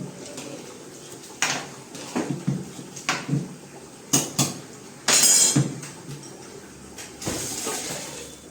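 Vegetables go into a cooking pot of gravy, with repeated metal clanks and clinks of a utensil against the pot in an irregular rhythm and one brief scraping rattle, all close and moderately loud, without talk.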